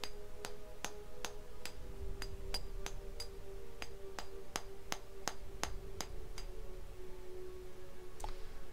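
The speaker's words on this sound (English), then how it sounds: "Let's use the hammer and chisel to weaken it." A steady series of sharp metallic clinks, roughly two per second, over a low background drone: a hammer striking a chisel in the video game Pillars of Eternity.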